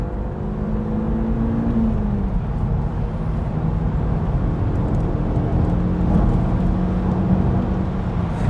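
A Mk1 Skoda Octavia vRS hot hatch accelerates hard, its engine a loud, steady drone heard from inside the car with no one speaking.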